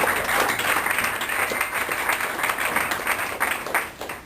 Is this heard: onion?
no